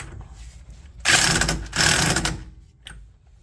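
A ratchet tightens a bolt on the rear CV joint of a 2015 Honda CR-V AWD, giving two loud, close bursts of rapid mechanical clicking, each about half a second long, followed by a faint click.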